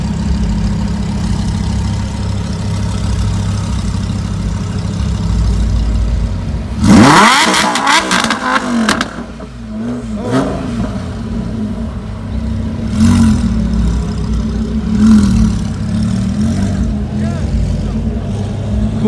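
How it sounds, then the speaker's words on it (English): At a San Jose car meet, a car engine idles with a low burble and then is revved sharply several times in rising bursts before settling back to idle. People talk throughout. "Got the boy Hector about to do some revving for us."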